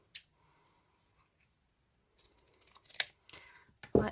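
Scissors snip ribbon for a flat boutique hair bow, a single crisp cut followed after a quiet pause by a cluster of small clicks and snips, close and faint.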